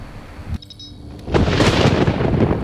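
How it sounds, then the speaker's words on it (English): Thunder from a thunderstorm in the video game Alien Dawn: after a quieter stretch with a brief crackle, a deep, loud rolling rumble swells in and sustains to the end, with no talk. "Thunderstorm, if it hits one of the right ones, it will charge."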